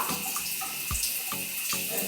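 Warm water runs from a tap into a sink in a steady, continuous hiss, with a few splashy knocks and bumps breaking through at intervals, close and without talk.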